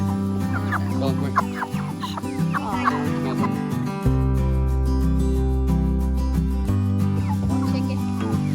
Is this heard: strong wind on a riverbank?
no